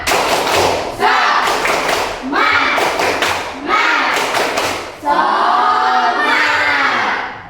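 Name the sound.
schoolchildren doing the rhythmic 'tepuk semangat' spirit clap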